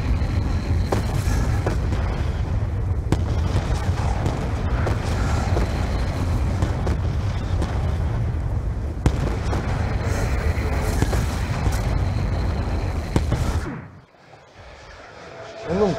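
Missile explosions in Call of Duty Black Ops 2 roar as continuous loud booming rumble with sharp blasts layered throughout, then cut off abruptly near the end.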